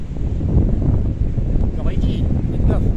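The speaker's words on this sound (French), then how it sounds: "avec le vent qui souffle comme ça" Strong wind blowing on a seaside cliff in Portugal, a loud gusty rumble buffeting the microphone, with a person talking throughout.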